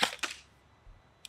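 A Krytac Trident airsoft rifle fires in semi-auto, giving two quick sharp cracks close together and then a third shot about a second later, each short and snappy against a quiet background.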